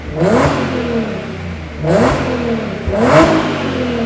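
A car's exhaust revs three times, each burst rising sharply to a roar and then falling back to a throaty idle.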